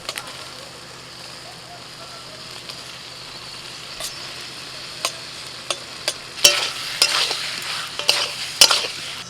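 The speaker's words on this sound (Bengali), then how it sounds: "এবার আমি দিয়ে দিচ্ছি ওলকপি আর আলু" Kohlrabi and potato pieces are tipped into a fried spice paste and stirred; a sizzling hiss runs under scattered utensil clatters that grow louder and more frequent toward the end.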